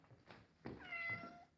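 A pet cat named Ari gives two or three insistent meows in close succession, drawn-out and rising, heard up close in a quiet room with no talking.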